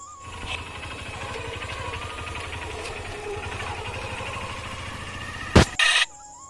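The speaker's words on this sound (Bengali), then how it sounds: "আজকে নিজেই বাইক ড্রাইভ করছে।" A motorbike engine runs steadily while a young boy rides it, with a rapid even throb and a continuous mid-level drone, then two brief sharp knocks near the end.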